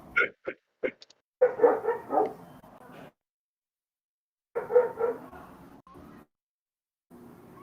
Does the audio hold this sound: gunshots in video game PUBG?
no